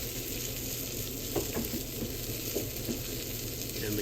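Avocado oil sizzles steadily in a hot cast iron skillet, a continuous crackling hiss at close range with a few brief clinks partway through and no voices.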